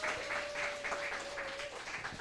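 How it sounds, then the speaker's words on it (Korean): Quiet applause from a church congregation welcoming newly commissioned next-generation ministers at a sending ceremony, a soft, even patter of many hands with a faint held tone beneath it. "우리 박수로 환영하겠습니다"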